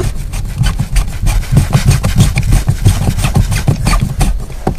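A threaded fitting is screwed into a swimming pool light housing after its threads are wrapped in Teflon tape. It gives a loud, close, continuous grinding rasp with a rapid scraping rhythm and no talking.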